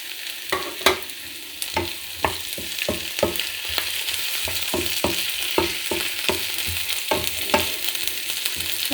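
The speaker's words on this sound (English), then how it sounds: "now I'm going to add the shrimps." Shrimp tossed into a pan of sizzling stir-fry vegetables, a steady frying hiss under repeated sharp stirring clacks of a utensil, close and alone without talk.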